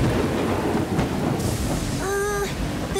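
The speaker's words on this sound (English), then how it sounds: "The storm's really starting to pick up." Cartoon thunderstorm with steady heavy rain and rumbling thunder, loud and continuous, with a brief tonal squeal partway through.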